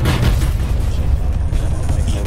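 A deep, booming explosion of seeker missiles in the Space Pirate Trainer VR game, a dense low rumble that fills the short moment at steady loudness.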